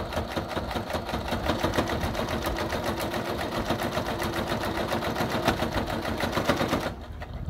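A sewing machine top stitching fabric, running steadily at a fast even rhythmic clatter close by for about seven seconds before stopping.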